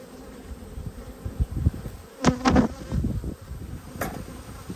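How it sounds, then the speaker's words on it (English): Honey bees buzz close around an open hive during an inspection, with a few sharp passes of bees flying right past amid handling noises and steady droning. "Got a few bees coming at me again."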